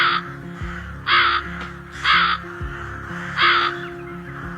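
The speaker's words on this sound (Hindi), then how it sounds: "लोमड़ी की गुफा से जोर जोर से आवाजें आ रही होती हैं कालू कौवे की।" A cartoon crow caws loudly in four harsh, evenly spaced calls, close and clear over a soft tonal background.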